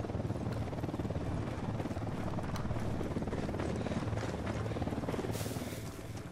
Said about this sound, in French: Hélico de l'unidad en patrouille, attention.